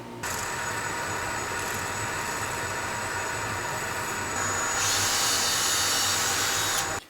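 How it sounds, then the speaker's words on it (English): Power drill boring through a wooden block with a long quarter-inch bit, a loud, close, continuous whining drone that rises in pitch and intensity partway through before cutting off abruptly. "Then I'll finish it off with my long bit to get all the way through."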